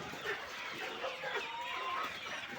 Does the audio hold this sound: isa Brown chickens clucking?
yes